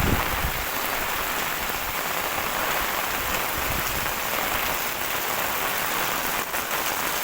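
Dense, steady Kerala monsoon rain pours down in a constant hiss, with drops spattering on surfaces and no voices.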